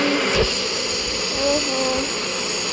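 A propeller airplane in the Turboprop Flight Simulator video game drones steadily at moderate loudness with a constant engine hum, and faint speech sits under the engine.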